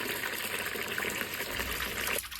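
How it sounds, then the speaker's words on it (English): Water drains from a bucket in a stable, a close, steady gushing pour that cuts off abruptly near the end. "Fill the bucket at a time and drain it off."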